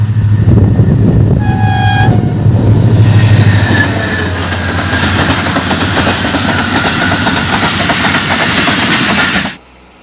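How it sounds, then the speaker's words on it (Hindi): A train rolls past a railway crossing close by, a loud sustained rumble of wheels and cars with a horn-like tone early on, continuing steadily before cutting off abruptly near the end. "रेलवे लाइन क्रॉस करने लगे हैं तो ट्रेन आ रही है, तो रुक गया हूँ मैं। सामने आ गई ट्रेन"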